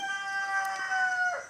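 A rooster crows once in a long, drawn-out call in Vietnam, fairly close, with quiet surroundings.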